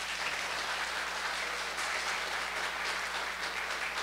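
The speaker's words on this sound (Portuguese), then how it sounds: "Queria pedir uma salva de palmas para as duas." An audience at an academic event applauds steadily, a dense, sustained wash of clapping hands at moderate distance with no pauses.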